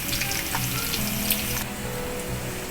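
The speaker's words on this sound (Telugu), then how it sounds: "ఇలా బెండకాయ ముక్కలు అయితే వేగుతున్నాయి" Pieces of okra, about a quarter kilo, frying in hot oil for a masala curry, with a continuous close sizzle and crackle and a few small pops running through.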